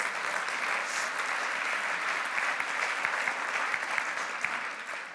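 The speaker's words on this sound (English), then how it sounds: "please give my distinguished panelists a very warm round of applause" A conference audience applauds a panel of speakers, a dense, even wash of clapping from many hands that holds steady for several seconds without any talk over it.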